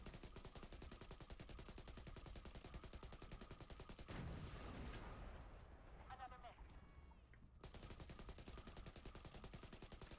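Rapid automatic turret fire in The Division 2 video game, a dense continuous rattle of shots running through most of the stretch, briefly thinning mid-way before resuming at full intensity.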